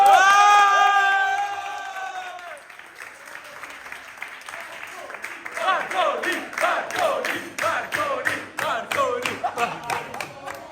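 A crowd of young people at a gathering over pizza breaks into applause and cheering, rising and falling in bursts after a sustained shout or chant at the start, with voices mixed in.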